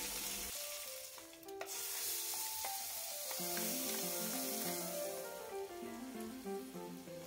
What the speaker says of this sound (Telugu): ఇప్పుడు పోపు వేస్తున్నాను. ఆవాలు అండ్ కరివేపాకు మాత్రమే వేస్తున్నాను.